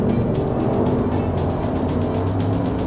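Hot Wheels toy race cars speed along a track in a racing tournament, a steady, loud whirring roar of small wheels running continuously throughout without pause.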